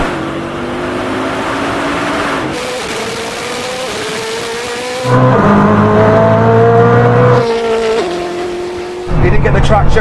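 A Koenigsegg Jesko launches in a drag race against a Bugatti Chiron Super Sport 300+, its loud engine climbing through rising revs with gear-change dips and a fresh surge near the end, while excited commentary runs underneath.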